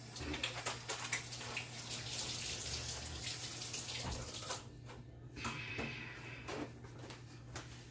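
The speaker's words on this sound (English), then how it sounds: "Let me wash my hands real fast." Hands being washed under a running kitchen tap, with a steady stream of water splashing into a sink, moderately close, shifting as the hands move through the flow before it eases off.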